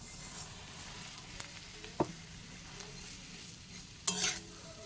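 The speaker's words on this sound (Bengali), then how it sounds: "চলো এখন সিমাইটা ভেজে নিই" Vermicelli frying in white oil in a kadai (wok) for sweet milk vermicelli, a steady soft sizzle with a few sharp scrapes of stirring, one at the midpoint and a louder clatter near the end.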